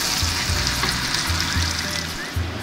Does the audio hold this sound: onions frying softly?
yes